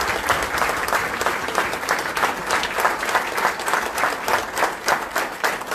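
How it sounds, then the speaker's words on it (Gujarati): A standing ovation at a felicitation ceremony in Surat: a crowd claps steadily and warmly for several seconds, a dense continuous patter of many hands at moderate distance with no voices over it. "તો તમામને વિનંતી કરું કે ઉભા થઈને આપણે તાળીઓથી વધાવી લઈએ."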